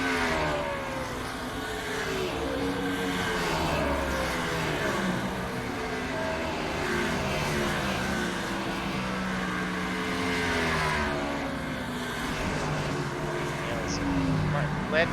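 NASCAR Cup race car engines roar continuously at USA International Speedway in iRacing, a loud sustained drone with pitch sweeps as cars rise and fall in revs, and a commentator talks over them.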